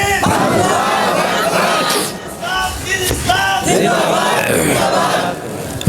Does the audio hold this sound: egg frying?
no